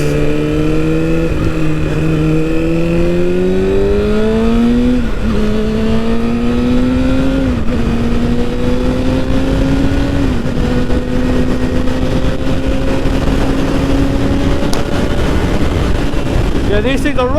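A Kawasaki Ninja ZX6R 600cc sport motorcycle on the road, its engine loud and close throughout, revving up through several gear changes with rising and dropping pitch, under a steady rush of wind.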